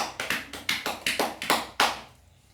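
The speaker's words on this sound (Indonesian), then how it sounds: "Kita beri aplaus untuk teman Kolce." Applause in a classroom during a microteaching lesson: a short burst of about ten sharp, evenly spaced claps, fairly close and moderately loud, that stops and leaves near silence, with no talking over it.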